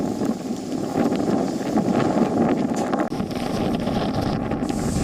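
Strong gusting wind in the aftermath of Cyclone Tauktae in Amreli, Gujarat, roaring steadily and loudly throughout with broad rushing noise and buffeting against the microphone, no voices.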